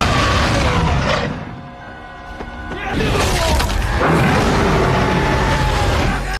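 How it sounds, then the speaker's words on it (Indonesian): An RPG blast in the Monster Hunter film, a loud booming, crashing burst with a broad roar that dips briefly before a second heavy surge of debris and rumble, dense cinematic action sound. "kemudian menembakkan RPG tepat ke arahnya"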